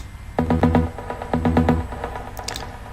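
A bright, detuned trance synth pluck plays two quick bursts of rhythmic notes, each a short repeating pattern, followed by faint trailing echoes.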